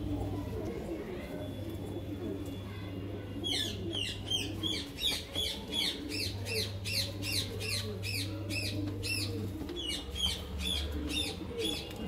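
Pigeons coo steadily in a loft or yard, soft low throaty calls repeating in rhythmic bursts, with sharp chirps and squawks from other birds layered above and constant background noise.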